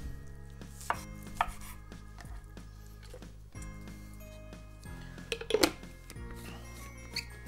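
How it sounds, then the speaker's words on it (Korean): A knife roughly chops orange peel on a cutting board, a series of irregular, crisp taps and thuds, close but fairly quiet, with short pauses between cuts. "대충 썰어서 넣겠습니다."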